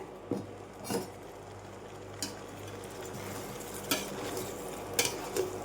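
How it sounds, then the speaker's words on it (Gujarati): Steamed khaman from soaked ground chana dal being tossed in a hot pan of tempering, giving a soft, steady stir-fry hiss with several sharp spoon and pan clinks scattered through it. "હવે તેમાં આપણે આપણા ખમણ એડ કરી દઈશું અને હવે ખમણને આપણે ઉછાળી લેવાના છે"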